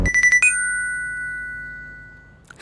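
A mobile phone rings while a call goes out, giving a quick run of bright chiming pulses and then a single clear tone that fades away slowly, with a faint sound rising near the end.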